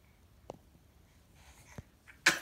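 A baby sneezes once near the microphone at the very end, a sharp bright burst, preceded by a few soft breaths and small mouth sounds in a quiet room.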